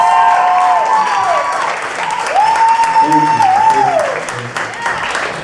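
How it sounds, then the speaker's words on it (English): An art show audience applauds a female keyboard player, loud close clapping mixed with rising and falling vocal whoops and cheers that swell in the middle before the clapping thins out. "Give her a round of applause!"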